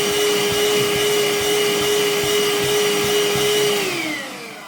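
A Parkside 20V cordless handheld vacuum cleaner runs at close range with a loud, steady motor whine and airy suction rush, then winds down as it is switched off near the end.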